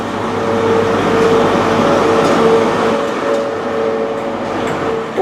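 A Great Western Railway passenger service from London Paddington to Swansea rolls into Reading station, a loud steady rumble with a tonal engine hum holding throughout, close by on the platform.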